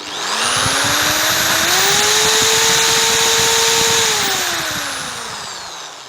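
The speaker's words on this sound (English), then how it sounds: "I've already connected the drill machine to the vacuum cleaner motor" A loud, steady motor whine from a vacuum cleaner motor driven by an electric drill rises in pitch as it spins up, holds a constant drone, then slowly winds down near the end.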